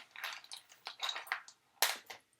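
Someone chews ice and marshmallows during a chubby bunny game, giving a run of close, crisp crunching bursts with short gaps between bites and a sharp loud crunch near the end.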